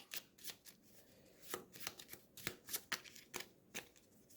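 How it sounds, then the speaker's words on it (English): A deck of talent cards for the Eldritch Horror board game is riffle-shuffled in a quiet room, several quick crisp ruffling bursts up close at low volume, with no talk. "So let's give these a shuffle."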